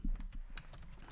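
Rapid typing on a computer keyboard while coding in Python, a close, steady run of light plastic key clicks with small irregular gaps, heard alone without talk.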